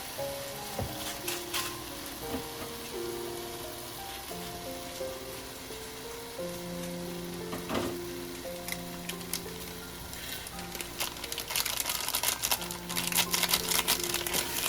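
Oil sizzles and crackles steadily as stew ingredients fry, with soft background music and occasional stirring clatter, the sizzle growing louder near the end.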